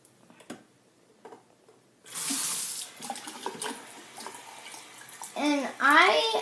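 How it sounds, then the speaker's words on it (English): Water runs from a tap in a steady broadband rush starting partway through, with a voice chattering over it near the end. "And put some water on it."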